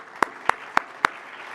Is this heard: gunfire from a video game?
no